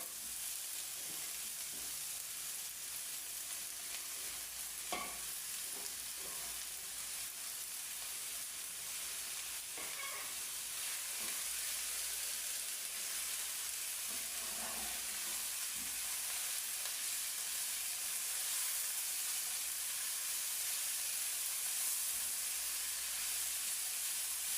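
Chicken pieces sizzle and fry steadily in a hot pan for a shaariya dish with vegetables, a continuous crackling hiss broken by a few brief clinks of stirring, close and with no talking.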